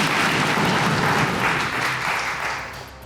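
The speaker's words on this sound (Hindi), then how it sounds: "तालियां भाई, तालियां, बहुत अच्छा।" Dense, steady applause from a quiz competition audience praising contestants, loud and continuous for about three seconds before easing slightly toward the end, with no speech over it.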